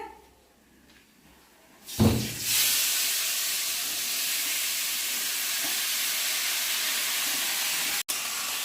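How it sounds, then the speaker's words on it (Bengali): Ingredients frying in hot oil with garlic for a Bengali dal dish: after a quiet start, a loud burst as they hit the pan settles into a steady, close, broadband hiss of sizzling that carries on alone. "সবগুলো উপকরণকে এখন একটু ভেজে নিতে হবে।"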